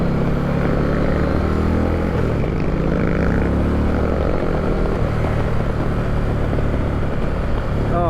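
Indian Challenger motorcycle cruising along a road with a continuous deep engine drone and heavy wind rush, steady and close, with no pauses.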